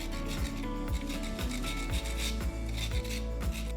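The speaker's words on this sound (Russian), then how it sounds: "если вы вдруг увидите на тарталетках небольшие дефекты, их можно удалить при помощи обычной металлической терки" A metal grater rasps over the edges of baked tartlet shells in steady repeated strokes, about seven quick scraping passes in a close, even rhythm with no talking.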